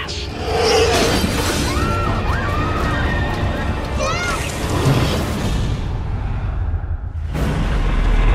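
A store's entire plate-glass front shattering in a movie trailer, heard as a loud crash with scattering debris amid a dense mix of shouting voices and rushing noise.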